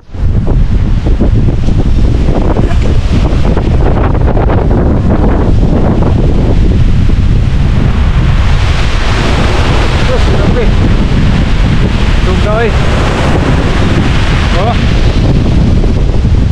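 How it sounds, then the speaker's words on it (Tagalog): Gusty typhoon wind roars across the seashore on Bohol island, buffeting the microphone in strong, surging blasts for the whole stretch, with surf churning beneath and faint voices now and then. "Pabugso-bugso ang lakas ng hangin diri sa ating isla"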